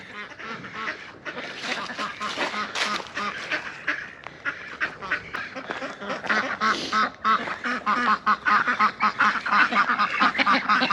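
Several ducks quack noisily and continuously at a snowy winter pond, the calls overlapping in a dense, close chorus that grows louder toward the end.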